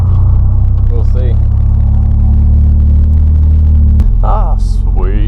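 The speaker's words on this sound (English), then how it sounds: "Drag this truck and trailer to that drive-through" A truck towing a trailer rumbles along with a loud, steady low engine drone, the pitch shifting as it changes gear partway, while people talk over it inside the cab.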